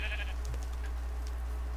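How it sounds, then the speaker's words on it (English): A sheep bleats once in the Minecraft video game, a short wavering cry heard briefly over a steady low hum. "Hello, Mr. Sheep."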